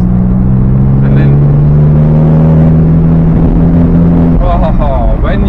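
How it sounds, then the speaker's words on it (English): Maserati MC20 Cielo convertible accelerating with a deep, steady engine drone and turbo whoosh, heard from inside the car, with someone talking over it. "when you put your foot down in the straights, you really feel those turbos. You can hear the turbos."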